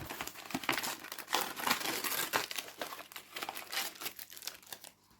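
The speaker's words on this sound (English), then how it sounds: "And I just tear it up a wee bit, stick it in the compost pile." Paper envelopes being torn up by hand for a garden compost pile, with close, crisp crinkling and a few sharp ripping bursts that fade near the end.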